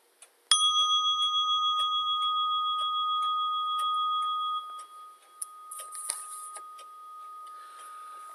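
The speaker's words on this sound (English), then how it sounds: "at the sound of the bell" A meditation bell is struck once and rings out in a long, clear, pulsing tone that slowly decays, with soft rustles and small clicks in a quiet room behind it.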